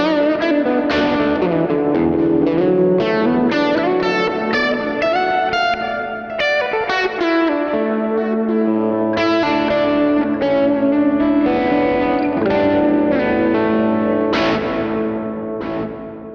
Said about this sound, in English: I'm actually quite impressed with the reverbs.